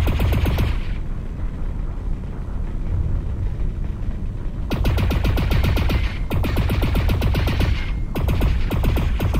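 Continuous weapon fire shooting ionized bolts at a target in the video game Lone Echo 2: loud, rapid, evenly spaced shots in long bursts with brief pauses between them, and no voices.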